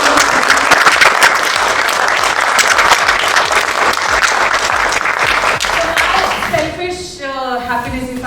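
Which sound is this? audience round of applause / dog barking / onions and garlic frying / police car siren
audience round of applause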